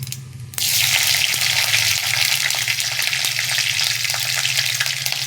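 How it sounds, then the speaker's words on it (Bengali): Nigella seeds and slit green chillies hit hot oil and start sizzling at once, a loud, steady frying hiss that holds close and even after the sudden start. "ফোড়নে দিচ্ছি কালো জিরে, আর দিয়ে দেবো চেরা কাঁচা লঙ্কা"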